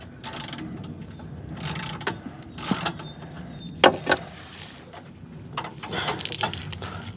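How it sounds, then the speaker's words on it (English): A 13mm socket ratchet loosens a bolt on the deck of a Cub Cadet riding lawn mower, giving a few scattered clicking and ratcheting bursts with clanks of metal, fairly close and moderately loud, with no talking. "Then you're going to take a 13mm socket and undo this bolt here."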